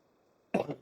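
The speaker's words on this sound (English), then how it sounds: "this cough's killing me" A single short cough bursts out suddenly after a near-silent stretch, close and fairly loud, from someone narrating a farming game harvest.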